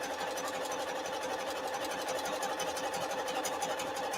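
A sewing machine stitching through several layers of fabric with a tight satin stitch, running steadily with a fast, even mechanical whir and needle rattle, close and moderately quiet, no voices.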